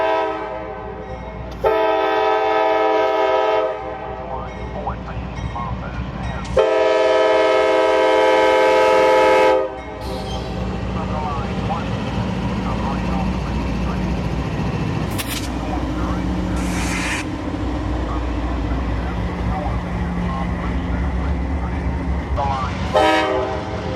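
A southbound CSX Q237 freight train of auto racks sounds two long, loud horn blasts, then rumbles and clanks steadily past nearby, with a few brief squeals and voices faintly underneath.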